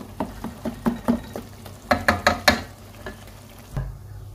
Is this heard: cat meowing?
no